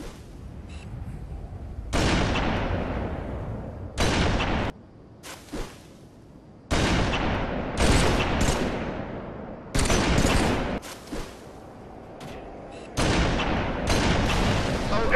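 Loud video-game sniper rifle shots fired at thrown grenades, heard as several heavy booming blasts with long ringing tails, spaced a few seconds apart, separated by quieter gaps where people talk.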